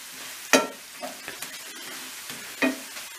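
Chicken and mushrooms sizzle in a cast-iron pan as a utensil stirs them. A steady frying hiss runs under two sharp scraping strokes and a few lighter clinks.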